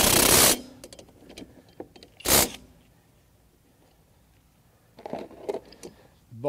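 A 17 mm bolt spins off the blade of an EGO Select Cut XP 21-inch self-propelled battery mower in two short, sharp mechanical bursts separated by quiet, with faint clicks between.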